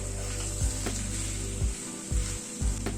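Prawns with potato and poppy seed, raw mustard oil, green chillies and coriander sizzle steadily in a pan, with a few soft scraping stirs at regular intervals and no talking.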